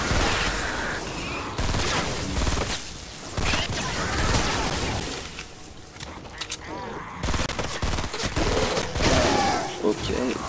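Dense video game gunfire crackles in continuous bursts throughout, loud and busy, with a voice talking over parts of it.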